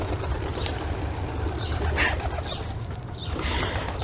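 Pigeons in a garden, soft cooing and brief bursts of wing flapping over a steady outdoor background, fairly close and moderate in level, no talking.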